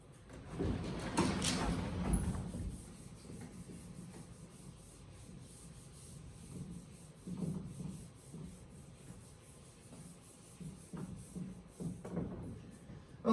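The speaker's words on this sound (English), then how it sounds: "I'm going to go ahead and do a little bit of erasing." Rubbing strokes of an eraser across a lecture-hall board, a loud burst of scrubbing near the start followed by quieter intermittent wiping strokes.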